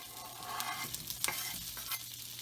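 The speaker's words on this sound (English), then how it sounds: "Now we've got about a half a pound, maybe 3/4 pound of diced up andouille sausage. And the andouille sausage is going in." Diced andouille sausage sizzles and fries in melted butter, with a steady crackling hiss and a few sharper pops as pieces are stirred in the pan. The clip is fairly quiet overall and has no talking.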